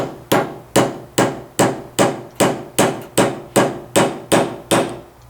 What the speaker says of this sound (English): I'm going to go ahead and hit it and set it with the head of the hammer.